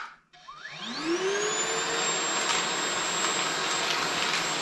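A Milwaukee M18 FUEL cordless backpack vacuum spins up from silence with a rising whine, then settles into a steady airy roar with a high tonal hum, running alone.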